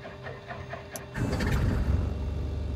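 In Microsoft Flight Simulator 2020, on a flight from Anguilla to St. Barts, an aircraft's right engine cranks with a quick, even ticking. About a second in, it catches and swells into a steady, louder rumbling drone.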